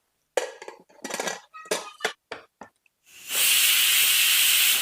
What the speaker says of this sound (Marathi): आपल्याला कुकरला जवळजवळ चार ते पाच शिट्ट्या करून घ्यायच्यात